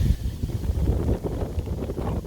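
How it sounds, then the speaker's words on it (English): A strong gust of wind buffets the microphone on a cloudy night, a low, rumbling, uneven rush that swells and eases over a couple of seconds, close and fairly loud. "that's a strong gust."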